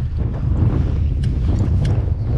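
Strong wind buffets the microphone on a reservoir during a March spinning-rod zander fishing trip, a loud, constant rumbling roar with gusty swells.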